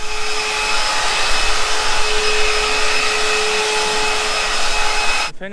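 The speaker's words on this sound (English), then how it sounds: "a better vacuum that can suck water faster than this one" A loud vacuum sucks up water with a steady droning whine that holds for several seconds and then cuts off abruptly near the end, with no voices.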